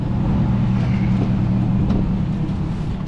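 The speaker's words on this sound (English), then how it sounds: "there's two diesel trucks over here beside me running" Two diesel trucks idle close by at a fuel stop, giving a loud, steady low rumble throughout with no voices.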